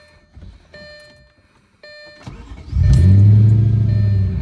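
An Audi S4 B6 with a 4.2 V8 is cranked by its rebuilt starter and fires up, the engine catching with a loud, close burst and settling into a deep, steady idle rumble after a few quiet clicks.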